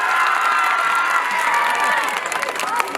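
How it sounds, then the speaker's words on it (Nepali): An audience at a school's annual celebration breaks into loud applause and cheering, dense clapping mixed with shouts and children's voices that stays strong throughout and becomes more scattered near the end. "सबैलाई एकचोटि सम्मान स्वरूप तालीले गडगडाट जोरदार ताली"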